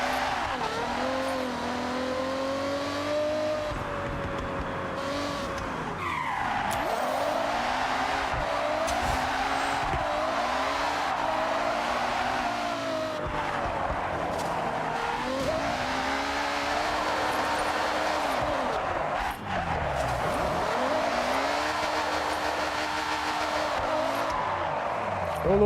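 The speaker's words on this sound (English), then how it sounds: "I'm pretty sure it's a V12 engine." A V12 car in Forza Horizon 6 drifting in second gear, its engine holding a loud, steady high-revving drone that rises and dips, with tire squeal and skidding layered throughout.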